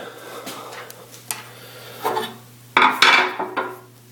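Metal pieces of a steel fence panel clink and knock as they are set into a welding fixture and drop into the keyway, with scattered sharp metallic taps and rattles close by.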